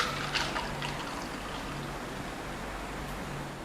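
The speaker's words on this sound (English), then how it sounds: "Pour the coffee over." French press coffee pours over milk in a 16-ounce glass, a steady soft trickling stream running continuously and close by with no talking.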